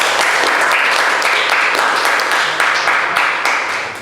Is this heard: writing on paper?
no